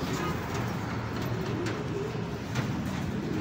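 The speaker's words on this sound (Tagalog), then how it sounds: "Tuloy-tuloy ang dating ng ibon." Racing pigeons cooing softly as they arrive, amid constant outdoor background noise, with a few faint bird calls scattered through.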